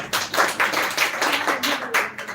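Scattered clapping from an audience at a school speech competition finale honors a girl who has just spoken, uneven close claps in short irregular clusters.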